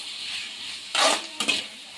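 Salt being stirred into capsicum rice in a pan, heard as two short scraping stirs over a faint background sizzle, close and fairly quiet with no talking.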